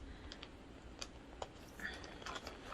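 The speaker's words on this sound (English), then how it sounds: "I apparently can't open a plastic bag." A plastic bag being fumbled open at a craft table: faint crinkling and scattered soft clicks and rustles, quiet and close, with no talking.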